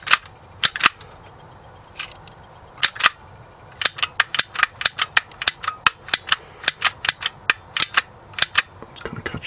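A Dymo embossing label maker's mechanism clicks sharply and close by, in irregular bursts that grow into a steady rapid run of crisp snaps with no voices.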